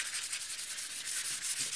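Hand sanding over an Arm-R-Seal wood finish on top of Danish oil with sandpaper, a steady close scratchy rubbing in quick repeated back-and-forth strokes, continuous with no talk.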